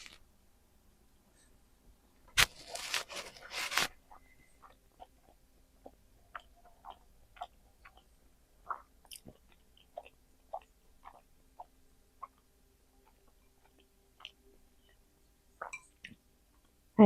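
Close, crisp crunching as a vegan veggie crunch sushi roll with soy sauce is eaten during a mukbang, with one dense burst of chewing followed by scattered soft mouth clicks and smacks in a quiet room.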